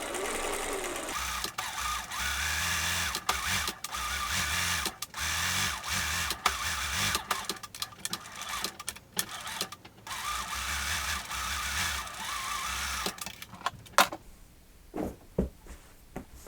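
A sewing machine stitches recycled sweater knit fabric in close, rapid bursts of mechanical whirring, starting and stopping repeatedly, with short pauses between runs and a quieter stretch near the end.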